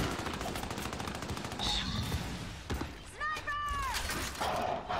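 Lancer assault rifle fire in the video game Gears 5 during ranked Control multiplayer, bursts of rapid automatic shots with clattering game effects, while a player talks over the action.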